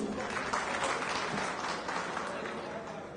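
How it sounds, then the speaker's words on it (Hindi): Audience applause breaking out at a JDU party event in Patna, a dense, steady wash of clapping that holds at full strength for the whole stretch and barely fades near the end. "एक बार जोरदार तालियां सुमित बाबा के लिए"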